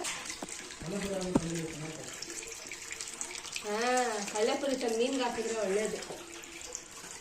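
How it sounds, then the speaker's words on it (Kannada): Water runs continuously at the Ammajaan Bawajaan Dargah in Chintamani, a steady close rushing stream that lasts the whole clip while people talk over it. "24 ಗಂಟೆ ನೀರು ಬರ್ತಾ ಇದೆ."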